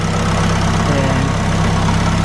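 A K-swapped Mazda RX-7 FD with a turbo runs steadily on its first start, a loud, continuous low idle with a constant throbbing rumble and no speech.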